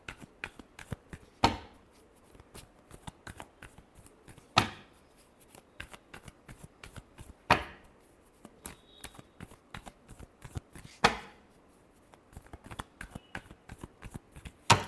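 Tarot cards shuffled by hand, a dense run of crisp riffling clicks broken by sharper slaps every few seconds as the deck is squared, close and alone.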